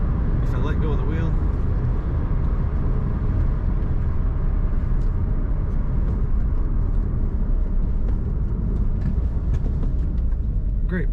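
A 2007 Pontiac Solstice cruises on the road, with a steady low rumble of tires and engine filling the cabin throughout and someone talking over it.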